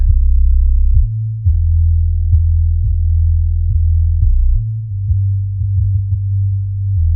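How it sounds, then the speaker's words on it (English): Deep, clean bass line in a music mix, turned up louder, playing sustained low notes that shift pitch in a steady rhythm, loud and alone with nothing else above it. "You can make the bass line a little bit louder there."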